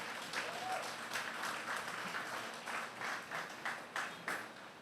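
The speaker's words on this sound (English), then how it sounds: "give the awardees another big round of applause" A conference audience applauds the awardees steadily, a dense patter of many hands clapping together over several seconds.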